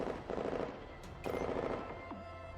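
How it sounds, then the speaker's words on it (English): Rapid machine gun fire in a nighttime video game battle, bursts of automatic shots ripping through with a brief gap between two volleys, loud and close, with a sharp ringing tone near the end. "Gunfire from a third party fills the night air and rips through the enemy soldiers' back line"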